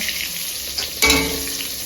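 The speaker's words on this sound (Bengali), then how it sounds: "এই যে এখানে হচ্ছে বেগুন ভাজা হচ্ছে" Loud sizzling of eggplant frying in hot oil, jumping sharply louder partway through as pieces hit the pan or get stirred.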